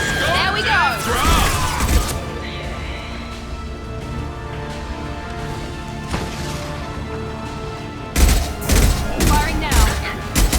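Gunfire from a firefight in the Mass Effect 2 video game, with bursts of rapid shots at the start and again near the end, loud and close, separated by a quieter stretch with occasional single shots.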